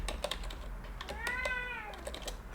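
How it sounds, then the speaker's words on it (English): A kitten gives one short rising-and-falling meow, close by, among rapid computer keyboard typing clicks in a quiet indoor room. "Oh, kitten."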